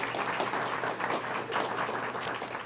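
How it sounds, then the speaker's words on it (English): A school audience at a student-of-the-month event gives a dense, steady round of applause that stays even and fairly loud throughout. "let's have a nice round of applause for all those gifts"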